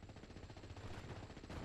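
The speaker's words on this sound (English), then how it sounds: "And use a 25mm cannon. It's just, that thing is a machine gun." Rapid automatic fire from a 25mm cannon in the wargame SD44, a dense rattling stream of shots at roughly three rounds a second, steady and fairly loud throughout with no talk.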